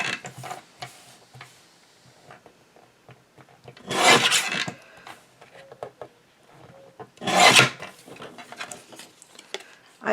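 A recycled Christmas card is trimmed in two short, crisp cutting bursts, close and quiet, separated by soft handling rustles and no talking.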